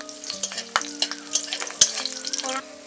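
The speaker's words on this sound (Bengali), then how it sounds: "কড়াইতে একটু তেল দিয়ে দেব, গোটা গরম মশলা দিয়ে দেব, একটা তেজপাতা, একটু সামান্য জিরে দিয়ে দেব" Whole garam masala spices, a bay leaf, cumin and slit green chillies sizzle in hot oil in a kadai, a steady close crackle broken by sharp spatters and stirring.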